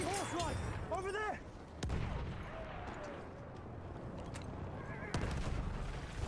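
A horse in the Battlefield 1 video game whinnies loudly several times amid gunfire and distant explosions, with a sharp shot or two cutting through the busy battle noise.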